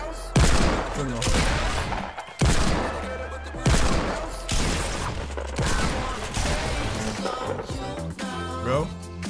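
Shotgun and Desert Eagle fire in Fortnite, several loud close blasts in a rapid irregular series with echoing tails and clattering game effects between shots.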